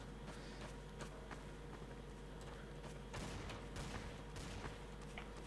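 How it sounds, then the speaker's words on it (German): Scattered gunfire in the video game Trouble in Terrorist Town: several sharp shots crack at irregular intervals, some clustered in quick bursts, fairly faint and distant over a steady low background hum. "Ich höre Schüsse. Irgendwer knallt hier rum, ja."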